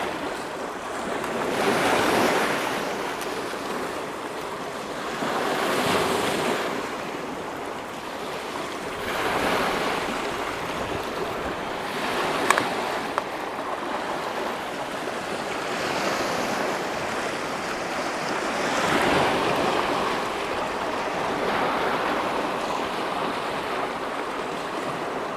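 Waves break on the Lake Superior shore in slow recurring surges every few seconds, a loud close wash of surf mixed with wind noise on the microphone, with no one talking.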